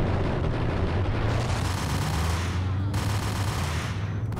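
Ingram Mach-10 submachine guns fire continuous bursts, dual-wielded in Max Payne, in a dense, loud rattle that runs the whole way and briefly cuts out before resuming.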